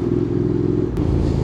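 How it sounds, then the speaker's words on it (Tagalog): A 2025 Honda X-ADV750's Leo Vince LV Pro carbon slip-on exhaust rumbles at idle, a deep, throaty burble close by and steady, with a brief click partway through. "Enjoyin muna natin yung tunog ng exhaust natin."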